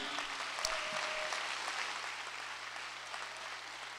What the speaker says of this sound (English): giving yourselves a round of applause